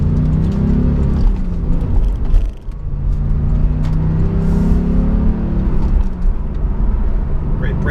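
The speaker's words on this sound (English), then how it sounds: "even in not sport mode, you get a really nice mechanical sound from the engine. You really hear it working." A 2017 Porsche Carrera S with its turbocharged engine pulls under acceleration in normal mode, giving a steady, close mechanical drone and rumble that rises through the gears with a brief dip partway, heard from inside the car.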